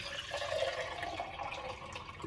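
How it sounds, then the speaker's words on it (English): Water, about 16 ounces, pours steadily into a glass to make an electrolyte drink, a continuous splashing fill lasting a couple of seconds. "Pour the water in, probably 16 ounces."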